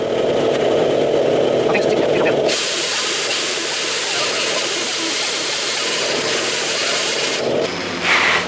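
A grinder works over a ground-down weld on a 1969 Chevrolet C10 truck body, a loud close steady hiss and abrasive whir that shifts pitch as it meets the metal, running almost without a break.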